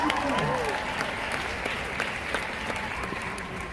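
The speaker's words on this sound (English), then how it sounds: "It's a quiet applause. It's a golf applause." An audience gives quiet, polite golf-style applause: a steady, soft wash of scattered claps that holds at an even level for a few seconds without building or peaking.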